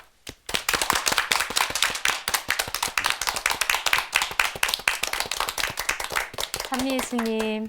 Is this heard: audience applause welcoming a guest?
yes